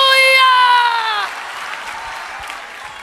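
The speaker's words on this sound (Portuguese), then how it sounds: "Quem acredita nisso, mistura essas palmas com glória a Deus e aleluia" A church congregation clapping during a worship service, broad applause running throughout under a sustained sung or shouted voice at the start.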